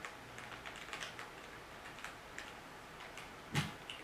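Typing C code on a computer keyboard, a steady patter of light clicking keystrokes with a slightly louder tap near the end, close and quiet with no talking.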